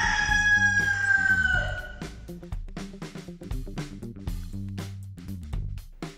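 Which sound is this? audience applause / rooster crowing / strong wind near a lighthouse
rooster crowing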